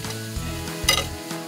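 A Florentine steak briefly seared in a hot pan before oil-bath or sous-vide cooking, giving a steady close sizzle and crackle with a few louder pops, no voices.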